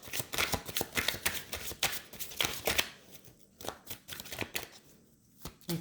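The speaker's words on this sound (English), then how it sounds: "I'm going to reshuffle because I don't like to, that's too many." Tarot cards being reshuffled by hand, a run of dense riffling and flicking bursts, then slower scattered slaps and taps as the deck settles, close and fairly loud with no talking.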